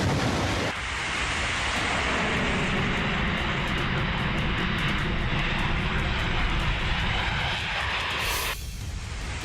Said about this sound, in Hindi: F-35 लड़ाकू विमान उड़ा।